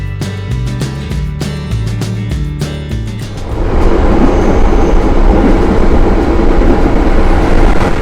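The Madiun Jaya executive train runs on rails from Solo toward Jakarta, first a rhythmic clickety-clack of wheels over rail joints, then a louder, steady broadband rumble and roar of the moving carriage.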